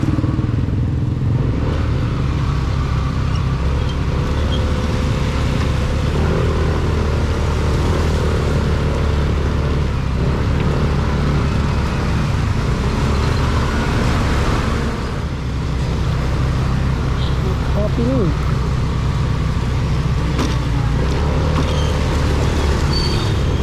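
A motorcycle pushes through floodwater, its engine droning loudly and continuously beneath a constant splashing wash of water across the whole ride.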